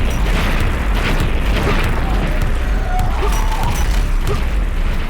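Rocket launcher blasts from the shooter game Dread Templar, firing a homing triple-shot: a dense, continuous roar of booming explosions fills the whole stretch loudly and without pause, with no talking over it.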